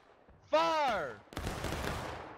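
A shouted command is followed by a musket volley in a video game: a dense, ragged burst of many overlapping shots that merges into a sustained crackling roar at close range.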